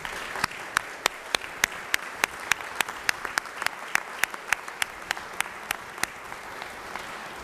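A legislative chamber's audience applauds a veteran's wife of 62 years, with steady, moderately loud clapping and distinct sharp individual claps standing out, continuous for several seconds without speech.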